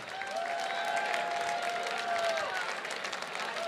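Applause from an audience at a charity gala fundraising auction honouring donors, a steady wash of clapping that holds for about three seconds and then tapers, with a speaking voice over it.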